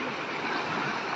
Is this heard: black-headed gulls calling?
no